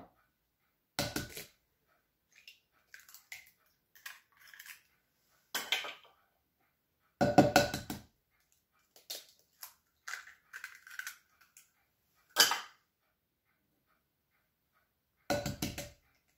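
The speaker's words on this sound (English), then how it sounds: "I'm going to use 2 whole eggs and then 1 egg white" Eggs cracked into a bowl for an eighteenth-century tansy: several separate sharp cracks and knocks with gaps between them, some followed by short soft sounds, close by with no talking.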